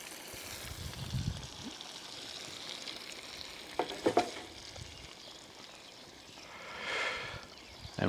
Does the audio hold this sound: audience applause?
no